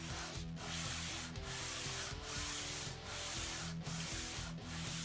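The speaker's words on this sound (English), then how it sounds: "When I first started doing sanding, I was using this 40 grit belt." Belt sander working the wood of a homemade electric guitar body, a steady close rubbing grind with a regular stroke rhythm, sweeping back and forth about every 0.8 seconds.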